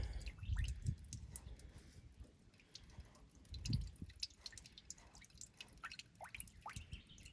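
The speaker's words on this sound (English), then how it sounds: "It's going to leak a bit, so that's exactly why I put that pan under it." Diesel fuel drips from a loosened fuel line on a Ford 3000 tractor into a pan, landing as scattered, irregular close drops with a couple of heavier splashes over low background noise.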